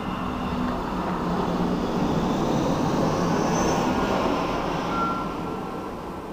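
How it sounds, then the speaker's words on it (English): An airplane passing overhead, a broad steady roar that swells toward the middle and then eases off, heard alone for several seconds. "oh, there's an airplane."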